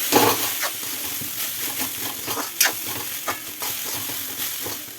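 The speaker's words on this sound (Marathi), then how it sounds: "थोडस मीठ पुन्हा छान मिक्स करून घ्यायचं आहे" Food in a pan is stirred and mixed with salt, a close series of scraping, clattering spoon strokes over a soft sizzle.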